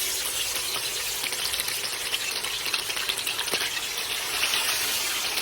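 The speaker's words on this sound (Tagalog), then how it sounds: "dinirita na po natin sa kumukulong mantika. Siyempre, prito na po natin." Steady, dense sizzling of tilapia frying in hot oil, with crackles and spatters popping throughout; no voices.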